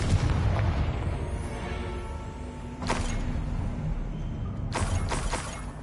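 Fiery Confringo explosion spell blasts in the video game Hogwarts Legacy, with a sustained rumbling roar and a couple of sharp bursts layered over the dense game soundscape, loud and close.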